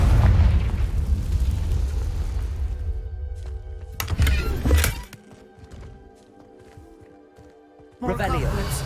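A Confringo blasting spell erupts in Hogwarts Legacy, a loud booming burst with a rumbling low tail that fades out, followed by a second sharp crack and a fresh surge of noise near the end, with speech around it.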